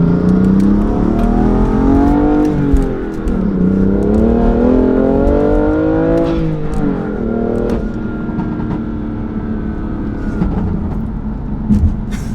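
A BMW F80 M3 fitted with high flow downpipes pulls hard, its exhaust rising through revs in a loud raspy drone with brief dips at shifts and scattered crackles and pops toward the end.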